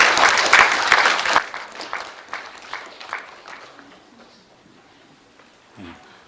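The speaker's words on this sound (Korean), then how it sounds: "여러분 박수로 환영해 주십시오" Audience at a regional colloquium applauds to welcome a speaker to the podium, a loud burst of clapping that thins out and fades, followed by a brief voice near the end.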